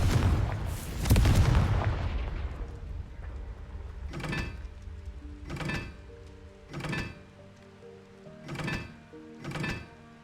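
The Confringo explosion spell in Hogwarts Legacy goes off with a big booming blast, then several sharp, loud impact thumps follow at roughly even intervals over a low ambient background.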